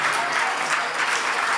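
A church congregation applauds in thanksgiving, a dense, steady wash of many hands clapping that is close and loud throughout, with a faint voice underneath.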